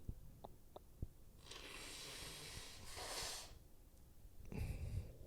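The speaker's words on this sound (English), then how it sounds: "Yeah, he's blowing his nose." A man blows his nose in a couple of long, hissing, snorting bursts, fairly close, with a few small clicks and rustles around them.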